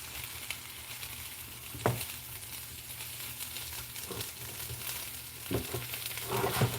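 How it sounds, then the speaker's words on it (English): Meatless meatballs and onion fry in a pan, a steady low sizzle broken by a few scraping stirs from the bottom, with occasional louder spatters near the end. "You just want to go in and stir it from the bottom up."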